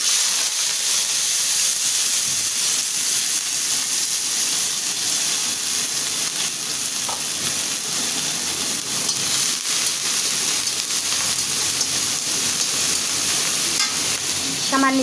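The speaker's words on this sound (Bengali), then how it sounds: "তো আমার তেলটা গরম হয়ে গেছে, আমি আগে এই চিংড়ি মাছ কয়টা ভাজিয়ে নেব" Shrimp fry in hot oil with a loud, steady crackling sizzle that stays dense and even throughout, heard up close with occasional small pops.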